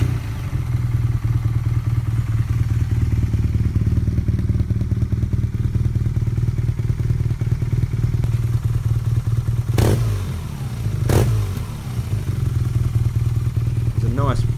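A BMW R nineT Scrambler motorcycle with a scrambler-wrapped exhaust starting up, its engine running with a steady, close low burble throughout, broken by a couple of sharp clatters near the end.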